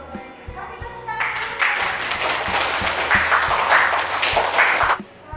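A classroom of students claps for a correct answer, the applause bursting in after a brief quiet moment, holding dense and lively for several seconds and then stopping abruptly.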